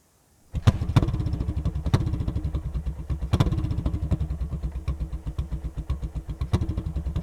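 A Ducati motorcycle fitted with a CR exhaust system starts up and idles with a loud, lumpy, throbbing rhythm, punctuated by sharper pops.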